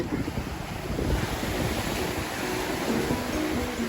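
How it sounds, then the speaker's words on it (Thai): Strong sea waves pounding a beach on Ko Samet during a storm, a dense, steady roar of surf mixed with wind rumble on the microphone, moderately loud and without speech. "เพราะว่าคลื่น แรงมากครับ พายุเข้าครับ วันนี้"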